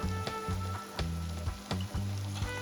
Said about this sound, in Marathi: इथे आपल्याला ठेचा छान परतून घ्यायचा आहे